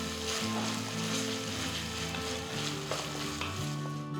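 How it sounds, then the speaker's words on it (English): Finely chopped onion sautéing in a pan for a Hyderabadi dalcha, a steady close sizzle and crackle with stirring, continuous and fairly loud, no voices. "add 1 large onion finely chopped and saute till it comes to a nice golden brown color"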